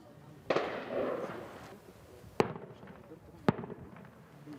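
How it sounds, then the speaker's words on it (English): Distant gunshots crack out one at a time during a militia's night fighting against Islamic State forces, three sharp reports spaced a second or two apart, echoing faintly over a quiet night. "As gunfire rings out nearby"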